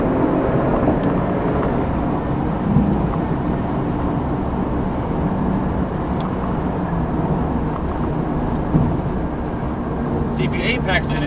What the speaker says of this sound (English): Oh, I love that turbo sound.